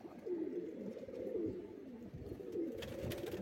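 Pigeons, including a red-eyed male, cooing in soft repeated low throaty calls close by, several coos over a few seconds with faint background noise.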